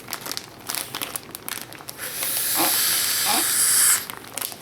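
Plastic airlock bag crinkling and hissing as it is sealed around pork sausage, a steady close rustle lasting a couple of seconds, preceded by softer handling sounds and brief low speech.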